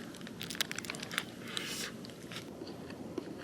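A guacamole and chipotle flavoured snack bitten and eaten up close, with a run of crisp crunching bites and crinkling bursts, then quieter chewing.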